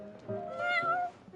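A single close, drawn-out meow from a cat character in Genshin Impact, rising then falling over about a second.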